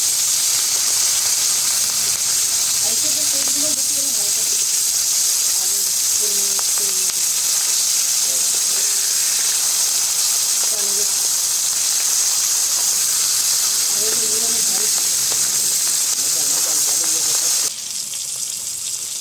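Oil sizzles and hisses continuously in a hot pan while cooking hilsa fish, a steady bright frying noise with occasional soft crackles and faint background sounds.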